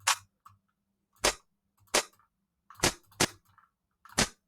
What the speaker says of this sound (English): Let's just listen to the drums and the percussion.